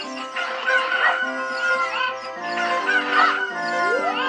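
A cucco chicken in Zelda Ocarina of Time squawks and clucks in two loud, warbling bursts over a layer of game music.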